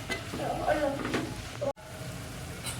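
Onions and peas sautéing in a pan with a steady soft sizzle and occasional stirring, close by, with a brief cut-out midway.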